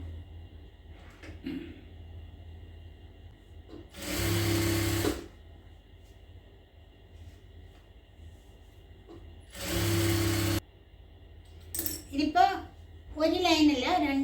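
A sewing machine stitches down the center of a pair of leggings in two short, loud mechanical bursts, each a few seconds long, with quiet handling between them and a voice talking near the end.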